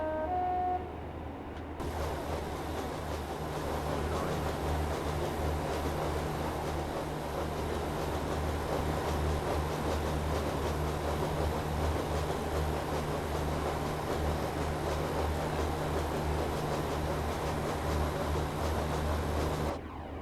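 A Class 323 train runs on rails in Train Simulator, a steady, continuous rumble of wheels and motors that holds an even level throughout with no talking.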